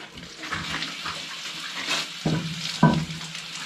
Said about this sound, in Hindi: और सीधे देखिए पानी का फोर्स